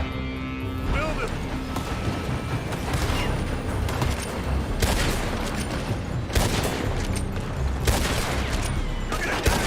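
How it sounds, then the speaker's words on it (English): Dense gunfire from a shootout in the video game Red Dead Redemption 2, a near-continuous fusillade of shots and impacts with louder bursts throughout, under a game soundtrack bed with voices talking. "They're shooting from that building."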